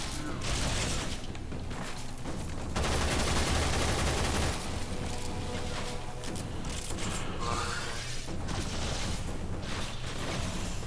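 Futuristic gunfire from Warframe, sharp rapid bursts and clattering mechanical shots that come and go amid dense game noise, continuous for several seconds, without clear talk over it.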